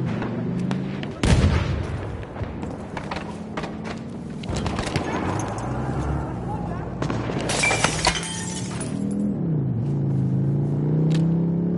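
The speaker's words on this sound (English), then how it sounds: "That's a tank." A tank in Battlefield 1 rumbling amid battle noise, low engine drone with shifting pitch under sharp shattering impacts and gunfire bursts, loud and busy throughout.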